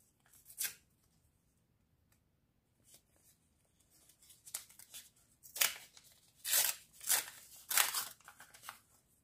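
Paper surprise packets are torn and crinkled open by hand, with several sharp bursts of ripping and rustling separated by short quiet gaps and no talk.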